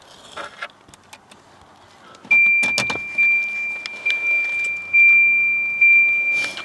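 A 1983 Volvo 240 with a 5-speed sits idle while keys jangle in the ignition, then a steady high electrical chime sounds and an engine cranks and catches in a few close surges, with no talking.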